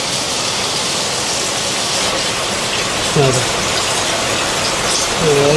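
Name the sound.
wind and rain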